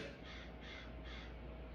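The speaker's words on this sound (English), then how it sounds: "there he goes, that Crow." A single crow caws in three rhythmic, evenly spaced calls over a steady, noisy background hiss.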